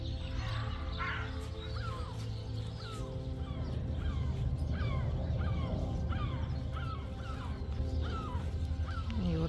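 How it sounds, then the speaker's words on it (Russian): Crows caw repeatedly while mobbing a hawk-like bird, sharp harsh calls spaced in a steady series over a constant low background rumble, moderately distant and outdoors. "поэтому вороны орут"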